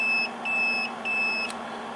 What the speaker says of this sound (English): it stores all of these settings to memory and gives me a beep